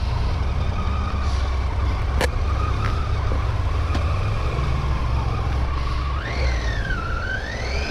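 A car goes past on the road during a group motorcycle ride with Triumph Tiger 800 XCA bikes. A steady engine and road rumble runs under a rising and falling whine, with no voices.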